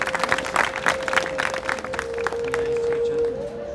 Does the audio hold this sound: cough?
no